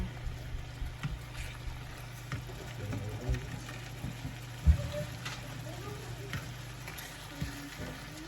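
Spicy shrimp sizzles in a pan on a stovetop set to medium heat, a low steady crackle with occasional soft stirring knocks and faint background murmur.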